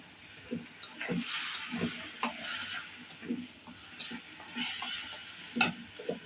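Dried fish (shutki) curry being sautéed in a pan, a low sizzle under rhythmic spatula scrapes and occasional taps against the pan, close and steady with no voices.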